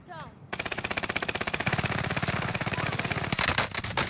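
Rapid automatic gunfire in a battle royale video game, a long sustained burst of loud evenly spaced shots lasting several seconds, with a sharper, brighter volley near the end and no talking over it.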